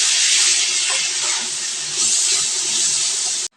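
Potatoes with bitter gourd frying in a pan give a loud, steady hiss and sizzle lasting several seconds, close up, with no one speaking.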